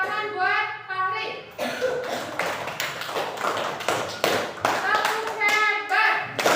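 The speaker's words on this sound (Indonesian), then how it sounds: "Tepuk tangan buat Fahri." Children in an Indonesian classroom clapping together in rhythmic bursts, loud and close, with a teacher's voice and children's chatter in between and over the claps.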